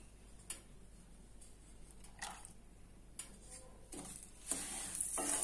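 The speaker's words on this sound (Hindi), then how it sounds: "और अब सूजी को 2 मिनट में फ्राई करूंगी ऑयल में।" Semolina frying in oil in a pan for sooji halwa, a faint soft sizzle with scattered scraping stirs and light utensil clinks that grow louder toward the end.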